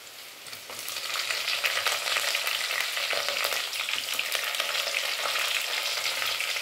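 Green chillies sizzle and spit in a hot oiled pan for a brinjal biryani, a steady close crackle with occasional stirring scrapes and no talk.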